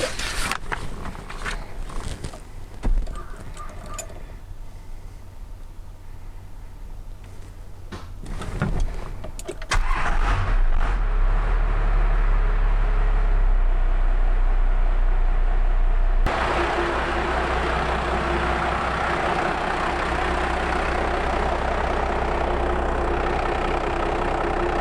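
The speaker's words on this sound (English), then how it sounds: "we're going to let the grid heaters run, and then we're going to see if this fires up" A Dodge diesel truck engine cranks after its grid heaters run, catches, and settles into a loud, steady rumbling idle that continues to the end.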